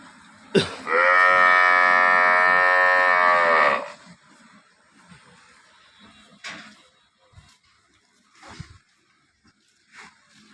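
A cow at a dairy farm in Tharad, Banaskantha, gives one loud, drawn-out moo lasting about three seconds, followed by faint shuffles and scattered low sounds.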